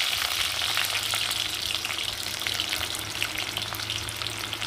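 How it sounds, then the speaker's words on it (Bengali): Garlic cloves and black cumin seeds fry in hot oil, giving a steady, close, dense sizzle that runs without a break and carries faint stirring crackles. "রসুনটা একটু ভাজা হতে থাকুক"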